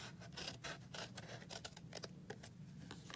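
Scissors snip through rough cardstock in a series of quick, close, faint cuts with irregular rhythm, heard alone with no talking.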